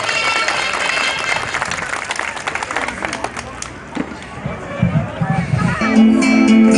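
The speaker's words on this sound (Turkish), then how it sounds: "önce bir yavrumuzu büyük bir alkış istiyorum" Applause at an outdoor Turkish community gathering, with a dense clatter of many hands clapping that thins partway through as voices and crowd murmur come forward, then swells again.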